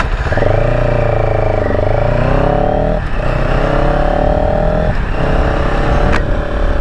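A CFMoto motorcycle engine accelerates loudly and steadily, its rising harmonic whine stepping up through gear changes with brief dips between them, close and continuous throughout.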